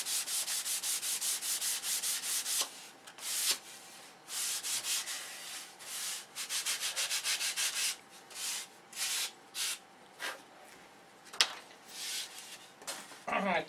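Sandpaper rubs over handmade flaps in quick, rhythmic back-and-forth strokes, close and steady at first, then broken into shorter, uneven bursts with pauses.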